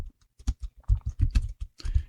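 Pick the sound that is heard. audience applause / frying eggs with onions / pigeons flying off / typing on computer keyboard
typing on computer keyboard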